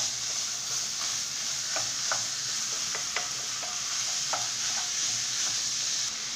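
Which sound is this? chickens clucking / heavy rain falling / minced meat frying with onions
minced meat frying with onions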